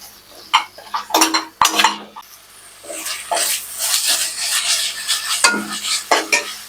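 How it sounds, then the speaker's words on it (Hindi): Scooped pointed gourd filling with ginger frying in a pan, with a steady sizzle broken by repeated sharp metal spatula scrapes and clinks against the pan. "पटल का जो मटेरियल निकाल के रखे थे, आधा हम इसी में देके अच्छे से फ्राई कर लेंगे।"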